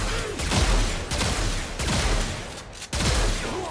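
The Arca weapon fires rapidly in the sci-fi shooter Warframe, a dense stream of loud, punchy shots with brief pulses and short dips between volleys.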